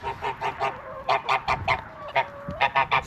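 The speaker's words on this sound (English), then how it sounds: "Chickens are mad." Loud squawks and honking cries of chickens burst out in rapid, uneven clusters on a cold day, several birds calling at once close by, with no talking.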